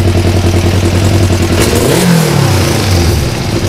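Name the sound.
Kawasaki ER5 1996 motorcycle engine revving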